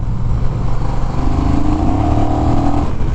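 A 2021 Honda Rebel 1100 DCT motorcycle engine revs up steadily and loudly as it accelerates in third gear to pass, rising in pitch, with a continuous close engine drone throughout.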